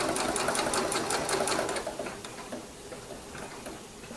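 Sewing machine stitching quilt binding with a rapid, close mechanical ticking that runs briskly at first, then slows and softens toward a stop.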